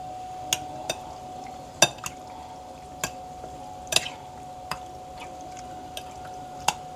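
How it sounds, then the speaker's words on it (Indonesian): Spoon stirring seasoning into chicken in a bowl with cornstarch, a few sharp scattered clinks and wet scrapes at an uneven pace over a quiet background, no talking. "Kita aduk sampai rata ya, biar bumbunya meresap."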